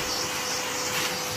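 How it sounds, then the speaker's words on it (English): A hoover vacuum cleaner runs steadily in a walk-in kitchen during sink removal, a close, continuous whooshing motor drone with a sustained whine, and no talking. "Our hoover, because it's a walk-in kitchen, we don't want to make so much mess for the household"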